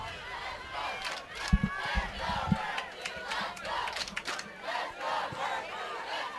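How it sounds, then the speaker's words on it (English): Soccer fans in the stands at a Florida high school boys' championship match cheer and shout as a crowd, a sustained wash of voices with a few sharp yells and thumps, fairly close and loud throughout. "Berkeley fans just to our right starting to cheer."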